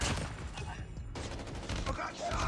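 Rapid shotgun blasts on autofire in the mobile shooter Call of Duty Mobile, a dense burst of loud close shots. A brief gap breaks the firing before it resumes.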